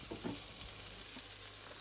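Onions, curry leaves and green chili sizzle softly in a pan for a Kerala-style beef roast, with a faint, steady frying hiss and a few light stirring scrapes near the start.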